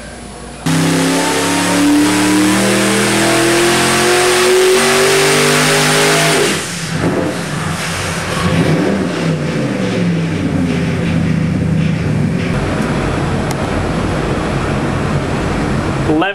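A turbocharged 509 big-block Chevrolet V8 running on a dyno at 7.5 pounds of boost, loud and close, climbs in a long rising rev for about six seconds, then drops off abruptly into a lower, rumbling idle.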